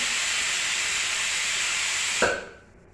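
Water boils around chopped sambar vegetables in a pot on the stove with a loud, steady steamy hiss, then a sharp knock as the sound suddenly drops away to near quiet.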